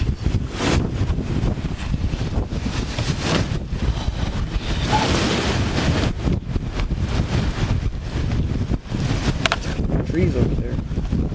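Strong thunderstorm winds gusting to around 50 mph in Glasgow roar steadily and loudly across a close microphone, with buffeting bursts and occasional voices underneath.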